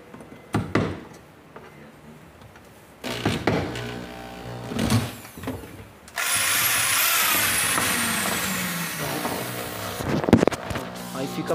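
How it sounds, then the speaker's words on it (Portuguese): Scattered clunks and handling noises, then an electric drill whirs loudly and continuously for several seconds close by, run to blow air to clean a hole, before stopping with a clatter. "ligar a furadeira para poder pegar o ar dela para limpar"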